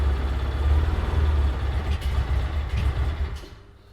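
A UTV engine running during a test ride, a loud low droning rumble with rough pulsing that fades near the end, no talk over it.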